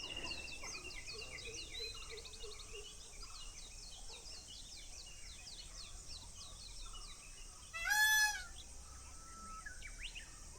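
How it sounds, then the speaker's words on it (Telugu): Outdoors in quiet countryside, small birds trill and chirp while insects buzz faintly throughout, and a louder peacock call rings out once near the end, all soft and distant. "అక్కడెక్కడో పీకాక్ అడుస్తుంది, ఇటు సైడ్ ఒక బర్డ్ అడుస్తుంది, అండ్ నా వెనకాల సైడ్ చిన్న చిన్న ఇన్సెక్ట్స్ ఉంటాయి కదా, అవి ఏడుస్తున్నాయి"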